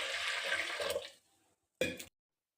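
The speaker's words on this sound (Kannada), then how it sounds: "ಇದಕ್ಕೆ ಬೇಳೆ ಬೇಯೋಕ್ಕೆ 1 ಚಮಚಷ್ಟು ನೀರು ಹಾಕ್ಕೊತೀನಿ" Water is poured into washed lentils in a cooking pot for sambar: a pouring splash lasting about a second, a brief pause, then a second short burst, close and fairly quiet.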